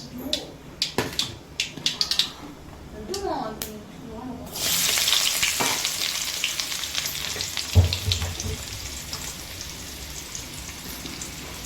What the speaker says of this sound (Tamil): எண்ணெய் போட்டாச்சு, கடுவும் போட்டாச்சு. கடுகு பொரியுது.